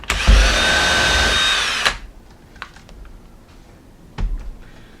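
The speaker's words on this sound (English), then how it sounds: "Now you're just going to open that drill up to a bigger size" Power drill boring a hole during a boat trolling motor and transducer install, one loud, steady whirring burst that stops abruptly, followed by quiet handling clicks and a short thud.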